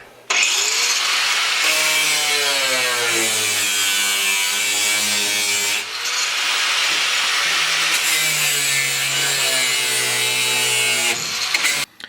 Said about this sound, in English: So I'll keep cutting right along there onto the end, and then this whole panel should come out.